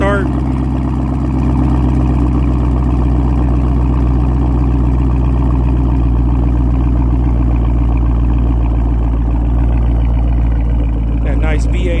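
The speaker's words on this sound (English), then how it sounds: "That nice V8 rumble." Deep, steady V8 rumble from a 2013 Chevy Camaro ZL1 just after a cold start, a loud continuous low idle that holds evenly, with a voice talking over it.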